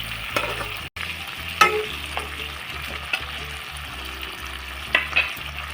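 Paneer Manchurian sauce cooking in a pan after water is added, a close bubbling sizzle with repeated spoon scrapes and clinks of stirring, no talking.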